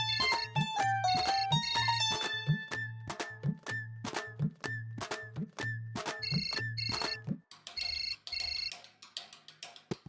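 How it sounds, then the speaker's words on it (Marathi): A mobile phone ringtone plays loud and close in a Marathi TV serial scene, a repeating melodic pattern over a steady rhythmic beat that cuts off near the end, leaving only a brief fainter bit of noise. "बरं फोन यायलाय आम्हासनी"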